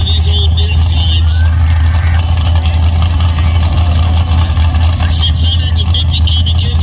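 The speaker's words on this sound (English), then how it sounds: "650 cubic inch Boss Ford Hemi in that thing" Tractor-pull truck powered by a 650 cubic inch Boss Ford Hemi, a loud, steady, heavy engine roar that fills the whole stretch without pause.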